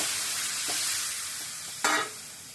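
Fish curry stirred in a sizzling pan, a continuous hiss of frying with a few scraping spoon strokes, including one sharper clatter near the end, close and alone.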